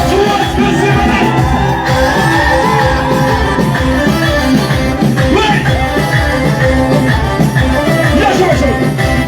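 A church congregation at a Palm Sunday stage worship service cheers, shouts and ululates loudly and continuously, a dense crowd roar with high trilling calls over rhythmic low music.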